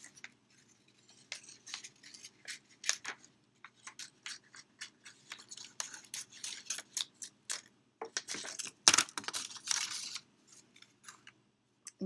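Scissors snip through paper around a traced circle, a string of quick, close crisp cuts in irregular bursts, faint at first and growing busier and denser toward the end, with no speech.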